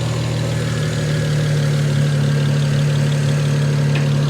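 A modded and tuned 2008 BMW 335i E90 engine idles steadily up close with the air conditioning on, a loud even hum with a strong low drone and no talking.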